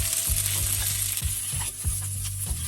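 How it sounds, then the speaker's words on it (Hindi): Cauliflower florets shallow frying in oil in a home kitchen pan, a steady close sizzle with periodic low thumps and scrapes of stirring roughly every half second, no voices. "फूल गोभी हमें शैलो फ्राई करना है, ज़्यादा कलर चेंज नहीं करना है।"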